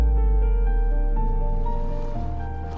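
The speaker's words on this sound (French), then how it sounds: "Les rochers restent plantés au milieu des vagues, comme d'anciens géants que l'océan essaye encore de réveiller." Ocean waves surging around rocks along the coast at Saint-Hilaire-de-Riez, a loud steady roar of surf that fades slightly toward the end, heard alone without speech.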